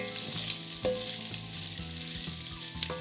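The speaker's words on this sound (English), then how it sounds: "We're going to fry the meat for about 2 to 3 minutes till we get some color." Pieces of meat for Goan sorpotel fry in hot oil, giving a steady close sizzle broken by occasional stirring scrapes and faint pops.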